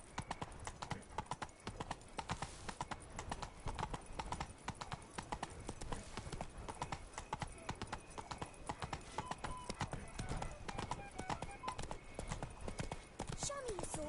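Roach, the horse in The Witcher 3: Blood and Wine, gallops with rapid, rhythmic hoofbeats that run unbroken and loud throughout, with speech mixed in.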